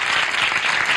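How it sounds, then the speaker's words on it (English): A television studio audience applauds steadily and loudly for a 1974 stand-up comedy appearance, dense clapping throughout the short stretch. "They're still applauding you, Geraldo."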